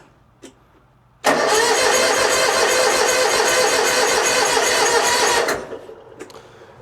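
A zero-turn mower engine cranks on a cold day of about 39 degrees with the choke fully out, a loud steady churning roar for about four seconds after a faint knock, then cutting off abruptly.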